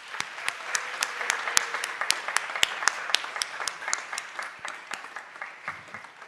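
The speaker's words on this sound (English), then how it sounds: "So we give them another round of applause." Applause from a modest audience at a school board meeting honoring students, a scattering of distinct claps with a few louder hands standing out, moderately near.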